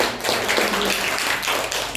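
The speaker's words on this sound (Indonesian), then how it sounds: "Oke, tepuk tangan untuk Mbak Namidatul ya." Classroom applause for a student, Mbak Namidatul, during a lesson: dense, close hand clapping filling the full two seconds at steady loudness.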